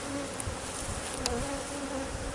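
A dense swarm of bees buzzes in a hive during a large hive removal, a steady close hum that fills the whole stretch with no talk.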